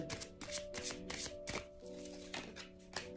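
Tarot cards are shuffled in a quick run of soft, papery riffles and taps, fairly faint and close, over a quiet tonal background.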